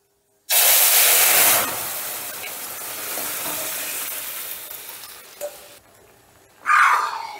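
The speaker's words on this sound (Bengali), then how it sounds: "ফোড়নটা একটু নাড়াচাড়া করে নিলাম হিং সমেত। এবারে দিয়ে দিচ্ছি সেদ্ধ করা ডাল" Boiled dal is poured into a hot tempering of spices and asafoetida, setting off a sudden loud sizzle that settles into steady bubbling hiss, then a stir and a fresh burst of sizzling near the end.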